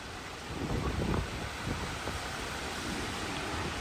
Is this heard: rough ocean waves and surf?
yes